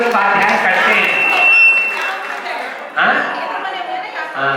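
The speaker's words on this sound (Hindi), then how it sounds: "इनके ज्ञान के लिए तालियां बजाओ" A crowd at a Jain religious ceremony in Rewari, Haryana claps and chatters. A dense, steady wash of applause and murmuring voices fills the hall and swells again partway through.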